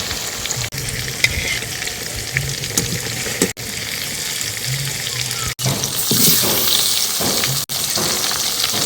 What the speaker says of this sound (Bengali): লবণ হলুদ মাখানো যে আমটা রেখেছিলাম এইখান থেকে অল্প অল্প নিয়ে এগুলো ভেজে নেব